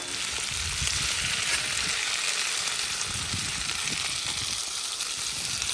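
Sliced potatoes and onions fry on a Blackstone flat-top griddle with a steady, loud, dense sizzle that holds constant throughout, no talking.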